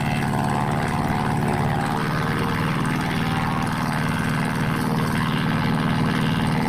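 Propeller aircraft engine droning steadily and loud in DCS World flight simulator during a tunnel run competition, a constant close hum with no voices.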